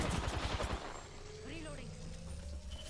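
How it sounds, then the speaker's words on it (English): Enemy gunfire in the video game Apex Legends: a quick burst of rapid shots up front, then quieter scattered game effects and tonal sounds, heard faintly under a voice. "The enemies are shooting at me."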